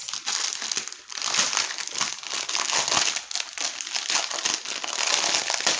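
Plastic bags of diamond painting drills crinkle and rustle continuously and loudly up close, with steady crackling bursts throughout and no talking.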